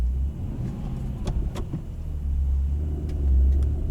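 A 612 hp Mercedes-Benz E63S 4-Matic+ estate car engine idles with a steady low rumble, swelling louder toward the end, with a few faint mechanical clicks along the way.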